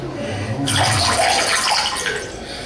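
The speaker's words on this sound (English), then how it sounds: "we want to make sure we put some water on it" Cool water is poured onto a burn, a sudden loud splashing gush that starts after a brief pause and runs for about two seconds before tapering off.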